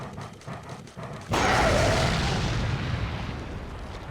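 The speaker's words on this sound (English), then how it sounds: "we're going to want to use a flame grenade on these three" A flame grenade in Resident Evil 4 HD bursts with a sudden loud blast. A roaring, crackling burn follows and slowly fades.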